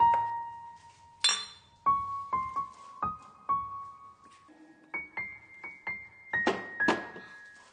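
Glasses clink together in a toast, a series of sharp ringing chinks, some single and some in quick pairs, spread out over several seconds in an otherwise quiet room.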